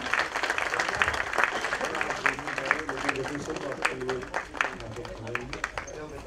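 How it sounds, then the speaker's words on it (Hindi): An audience at a duet singing competition gives loud, sustained applause with dense, continuous clapping, while a voice speaks over it. "और आपके लिए ये जोरदार तालियां शिप्रा।"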